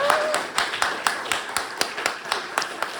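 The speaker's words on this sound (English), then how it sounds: "Yes, round of applause." Scattered clapping from a small group at a Buddhist Sangha Day talk, steady and fairly quiet, with a faint murmur underneath.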